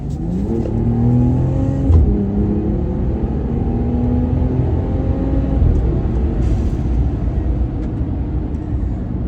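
A RAM 1500 Hurricane fitted with a Flowmaster catback exhaust revs hard from inside the cabin, a loud steady engine roar rising in pitch through the gears and then holding.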